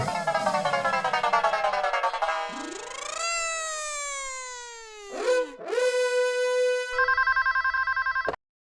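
A telephone rings loudly in a Hindi TV sitcom scene, its electronic tones bending and sliding in pitch over several seconds before cutting off abruptly, with no talking over it.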